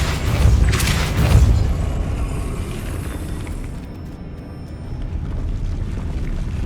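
A Depulso force spell strikes in Hogwarts Legacy, with heavy booming impacts in the first second or two, then a rumbling, fading tail over a low background.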